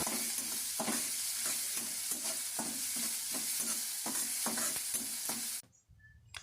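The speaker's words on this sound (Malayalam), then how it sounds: "ആവശ്യമായിട്ടുള്ള വെളിച്ചെണ്ണ ചേർത്ത് അരിഞ്ഞു വെച്ചിരിക്കുന്ന സവാള, ഇഞ്ചി, പച്ചമുളക്, കറിവേപ്പില എന്നിവ ചേർക്കാം." Chopped onion, ginger, green chili and curry leaves sauté in coconut oil, a steady broadband sizzle broken by repeated scraping stirs of a spatula, with no talk, cutting off abruptly near the end.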